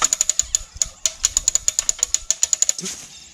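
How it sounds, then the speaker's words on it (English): A tree felling support jack with a claw set against the trunk is cranked in a rapid series of sharp ratcheting clicks, about twenty in a row, close and crisp, ending with a brief rustle. "all I'm going to do is give it a couple of cranks"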